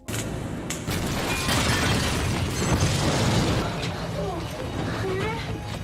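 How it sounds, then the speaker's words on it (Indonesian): A film explosion tears through an apartment unit, a sustained loud roaring blast with crackling debris and rumble, partly under a voice talking over it. "ledakan hebat pun terjadi di unit apartemen tersebut"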